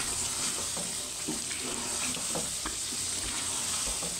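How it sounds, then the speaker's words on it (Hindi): Spices for chicken liver (kaleji) fry and sizzle steadily in a pan, with occasional scraping stirs, close and continuous. "अभी हम इसमें डाल देंगे सारे मिसाले जो हमने निकाले थे और इसके अच्छे से करते हैं भुनाई मिसालों में।"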